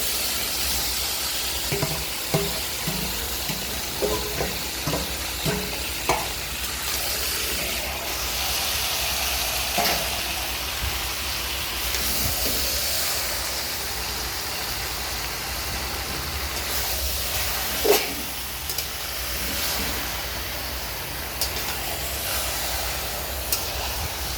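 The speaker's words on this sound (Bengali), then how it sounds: "এখন আমি মাংসটা দিয়ে দিচ্ছি মাংসটা দিয়ে বেশ ভালো করে কষিয়ে নেব" Kadaknath chicken sizzles and hisses steadily in a hot pan, with occasional clicks and scrapes of stirring, close and continuous.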